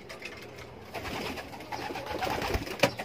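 Young racing pigeons cooing, soft low coos close by over faint background noise, with a slight rise in activity toward the end.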